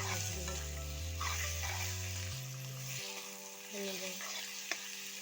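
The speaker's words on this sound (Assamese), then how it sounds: "ইয়াৰ পাছত চিকেনখিনি দি দিব। এনেদৰে অলপ সময় লৰাই দিব যাতে ভালদৰে লাগি যায়।" Chicken stirred and frying in a pan, a close continuous sizzle with scraping stir sounds over a low, steady droning hum, ending with a sharp clink.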